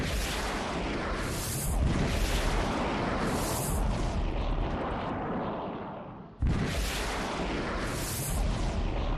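A drone strike explodes over the Kremlin palace in Moscow, a loud, rough roar of blast noise with several heavy booms, a brief dip, then another sharp blast.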